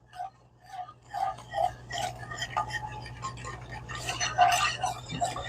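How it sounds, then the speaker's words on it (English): A metal whisk clinks and taps rhythmically against a pot while stirring roux into milk for a mac and cheese sauce, with quick, light strikes close by under a person's steady talking. "Using that whisk to incorporate the roux"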